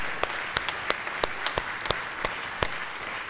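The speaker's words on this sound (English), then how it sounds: "Let's all give Mayor Bell a round of applause." Applause at a Durham city council meeting, a steady wash of clapping from a crowd with a few louder individual claps standing out near the microphone.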